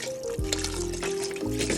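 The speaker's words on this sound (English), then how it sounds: "We're going to top it off with some box broth." Boxed broth glugging and splashing as it pours into a pot of chicken and vegetable soup, a short close pour with uneven gurgles.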